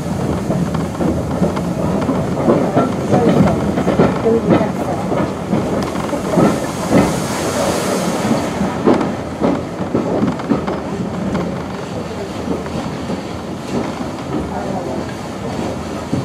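Heritage train pulling into Highley station on the Severn Valley Railway, a steady loud rumble of wheels and carriages with hissing and some faint voices mixed in, continuous throughout.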